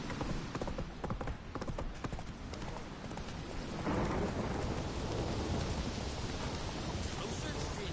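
Roach, the horse in The Witcher video game, gallops with a steady clip-clop of hooves beneath rain and rolling thunder, the storm swelling louder partway through.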